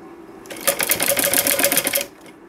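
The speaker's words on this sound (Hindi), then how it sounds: "अब हमें जहाँ बीच में हमने निशान लगाया था वहीं पर हम इसको इस तरह से रखेंगे और इसके ऊपर से हम सिलाई लगा लेंगे।" A sewing machine stitching gota lace onto fabric runs in one short, fast, even burst of close mechanical clatter lasting about a second and a half, with no talk.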